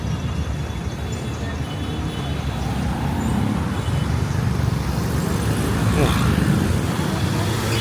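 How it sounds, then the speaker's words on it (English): A packed bus rolls past in busy street traffic in Miraflores, Lima: a continuous, loud rumble of engines and tyres that swells gradually as it nears. "Packed bus, fully packed."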